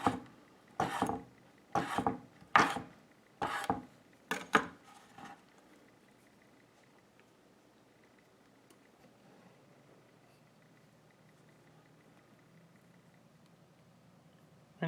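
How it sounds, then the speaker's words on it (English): A knife chops bacon on a cutting board in a home kitchen while making pub-style pizza, giving about seven distinct close thuds in the first five seconds, then a long stretch of faint room tone. "just gonna cut up this bacon"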